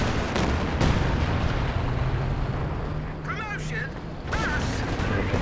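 Sexton self-propelled artillery fires at Axis tanks in the Company of Heroes 2 video game amid a dense, constant battle din of booms and rumbling, with talk running over the top throughout.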